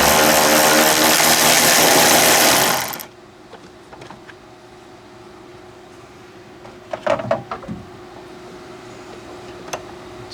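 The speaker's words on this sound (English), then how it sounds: "cordless ratchet." Cordless ratchet whirring loudly and steadily for about three seconds while removing nuts from a Buick Grand National Powermaster brake system, then stopping, leaving faint clicks and quiet handling noises.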